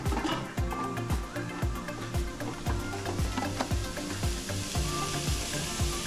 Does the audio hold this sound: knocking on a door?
no